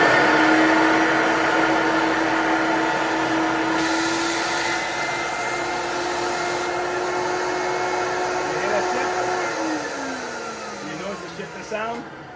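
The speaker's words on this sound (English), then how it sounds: "there's a sound that the motor makes when it's straining" A Big Green Machine carpet cleaner motor runs loud and close with a continuous whine that slowly drops in pitch as it strains against blocked airflow, then falls away near the end.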